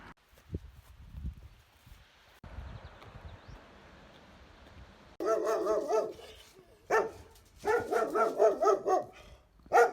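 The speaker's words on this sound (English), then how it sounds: "Galician dogs are much more mean than any of the other dogs in Spain" Dogs in Galicia, Spain, near Finisterre on the Camino de Santiago bark in loud repeated bursts during the second half, after a quieter outdoor stretch with low rumbling.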